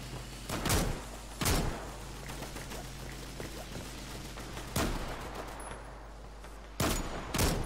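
Gunfire in a WWI military roleplay game in Garry's Mod, four sharp isolated shots spaced a couple of seconds apart over a low steady background hum, no talking.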